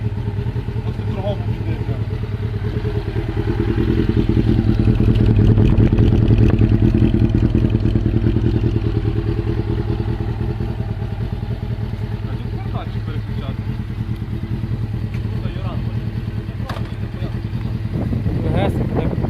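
A motorcycle engine idles and revs steadily nearby, a continuous throaty rumble throughout with faint clatter and occasional voices beneath.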